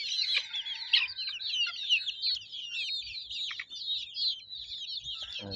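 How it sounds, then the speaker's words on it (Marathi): Free-range desi chickens, chicks and a rooster clucking and chirping in a dense, continuous chorus, close and fairly loud, with no talking. "बघा पिल्लांची क्वालिटी बघा, कोंबडी बघा, बघा आपला कोंबडा आहे।"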